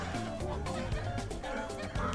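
Chickens in a Roblox egg-farming game cluck in quick, repeated bursts, close and fairly loud, with a brief chuckle mixed in.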